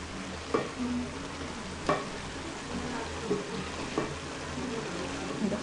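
Stew is stirred in a pot after a teaspoon of crushed garlic goes in, with a spoon scraping in several sharp strokes over a steady background sizzle and hiss, heard close up.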